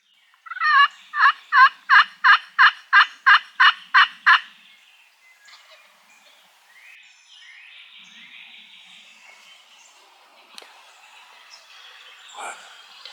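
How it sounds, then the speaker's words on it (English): A wild turkey gobbles in a fast run of about ten loud, rattling calls, then falls quiet while faint outdoor rustling and scattered soft sounds continue. "I just heard him gobble."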